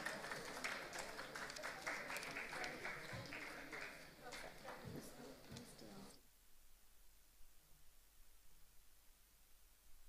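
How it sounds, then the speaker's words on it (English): Brief applause welcomes a speaker onto the stage at an innovation summit, a lively clatter of hands heard somewhat distant and thin, then cutting off abruptly into quiet room hiss after about six seconds. "So with a round of applause,"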